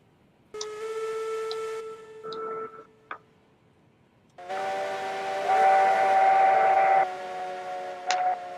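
Steam locomotives in the railroad game Railroads Online sounding their whistles, long sustained hoots with hissing steam, one shorter blast, a pause, then a longer louder whistle, all fairly close with no talk.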